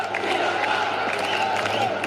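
A cricket crowd at a T20 World Cup match between Sri Lanka and Australia cheers in a steady, continuous roar, broad and distant, with indistinct voices blended into the din throughout.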